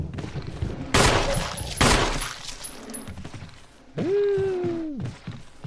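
Gunfire in the Resident Evil Remaster video game: two loud, sharp blasts close together, followed by a drawn-out, moaning creature groan; no talking.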